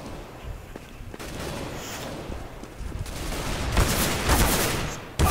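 Gunfire in the video game CS:GO, a rapid rattle of shots growing louder and denser toward the end, over a faint background.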